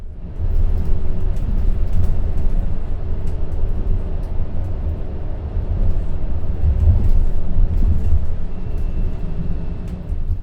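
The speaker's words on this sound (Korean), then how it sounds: "고속도로 운행 시에도 소음은 엔진 구동 버스에 비해 조용한 편이다" Interior of a 12-metre hydrogen fuel cell express bus cruising on a Korean highway near Jukjeon rest area, a steady low road rumble and faint whine, no engine roar, no one talking.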